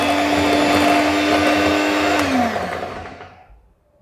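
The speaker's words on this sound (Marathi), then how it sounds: "तर इथे मी हँड मिक्सर वापरते आहे." A hand mixer beats whole wheat banana and yogurt pancake batter with a loud, steady electric whine that holds for a couple of seconds, then winds down as the motor is switched off, leaving near silence.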